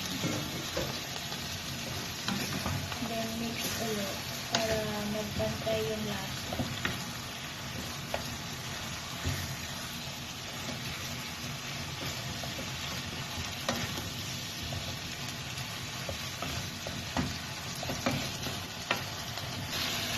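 Chicken for kabsa frying in a pan with cumin, paprika and pepper, a steady dense sizzle with scattered stirring clicks and scrapes, close and continuous.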